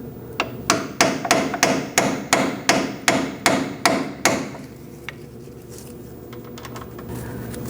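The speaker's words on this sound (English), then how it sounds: "If your bolt doesn't line up, you are going to have to tap it on a little bit more." Hammer tapping a bolt into a lower control arm mounting bracket on a 2000-2006 Mini Cooper: about eleven sharp, evenly spaced metallic blows, close and loud, then a single faint knock and quiet workshop background.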